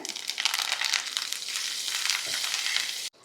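Curry leaves sizzle loudly in hot oil for a brinjal curry, a dense crackling hiss that runs steadily and then cuts off abruptly.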